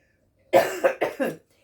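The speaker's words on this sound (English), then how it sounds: "I'm going to cough." A quick burst of four coughs in close succession, near and clear against near silence.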